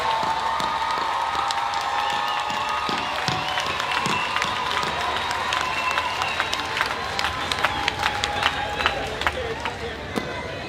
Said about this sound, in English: give them an almighty round of applause